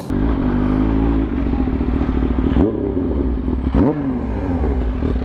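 A Kawasaki Ninja H2 motorcycle engine idles and revs close by with a deep, throbbing rumble, two sharp rev blips rising and falling, and faint clattering over the steady running.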